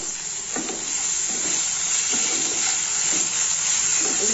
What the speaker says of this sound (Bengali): এগুলো একটু ভালো করে কষিয়ে নেব।